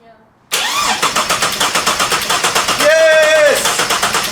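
A turbocharged Ford EF XR6, long abandoned and with its motor missing, cranks and abruptly catches, then runs loud and close with a rough, pulsing idle, while a voice briefly rises over the engine.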